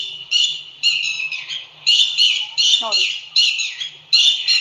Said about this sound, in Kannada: ಪಕ್ಷಿ ಕೂಗ್ತಾ ಇದೆ ಅಲ್ವಾ,